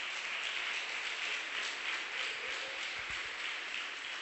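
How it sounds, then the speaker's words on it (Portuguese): A church congregation applauds through a Portuguese-language intercession service, dense steady clapping of a crowd filling the space at even loudness, with a few low thumps near the end. "Você pode aplaudir a Jesus"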